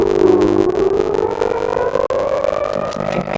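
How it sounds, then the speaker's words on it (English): An emergency air-raid siren in Jerusalem during an Iranian missile attack wails steadily, its pitch sliding slowly upward over a few seconds, loud and continuous with no voices. "the sirens, emergency sirens, ringing out in Jerusalem"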